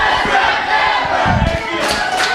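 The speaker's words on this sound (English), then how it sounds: "The crowd showing their appreciation for the referee" A wrestling crowd at a live championship match roars and cheers for the guest referee, a loud, continuous mass of shouting voices punctuated by a few thuds and sharp yells.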